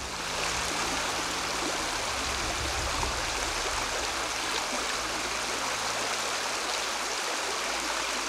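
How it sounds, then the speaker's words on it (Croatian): Rushing water flows steadily and loudly, a dense continuous wash of springs and small streams tumbling down surrounding hills at Snjegotina, with no voices. "Desetine izvora i manjih potoka slivaju se sa okolnih brda."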